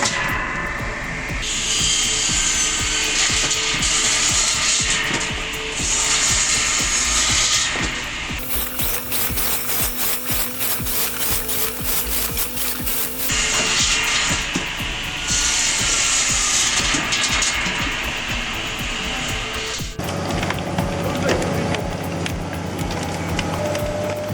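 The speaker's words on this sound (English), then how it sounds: "The aggressive blade teeth ensure smooth, fast cuts, and the conveyor keeps everything moving without delays." Homemade chainsaw firewood processor slicing logs, a continuous buzzing saw whine that rises and drops with each cut, interspersed with rougher cutting bursts and machine rumble, fairly close and without talk.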